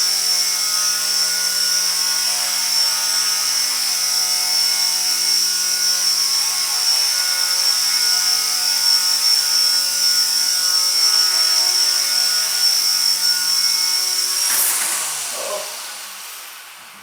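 A Gaui Hurricane 200 EP electric RC helicopter hovers indoors, a close, steady high-pitched rotor and motor whine with a constant buzz that continues unbroken until it winds down and fades after a slightly hard landing.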